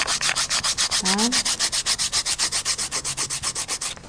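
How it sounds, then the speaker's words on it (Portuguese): Painted wood rubbed with 220-grit sandpaper in steady back-and-forth strokes, a close, loud rhythmic scratching of roughly six strokes per second that continues throughout, with a brief spoken word partway in. "vai lixar sempre na direção que você aplicou o envelhecedor, a mesma direção, seguindo o mesmo sentido."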